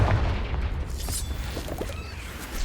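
A Confringo spell blast in Hogwarts Legacy opens with a low, heavy boom that rolls away under crackling, scattered magical debris and combat noise, fairly close and fading over a couple of seconds.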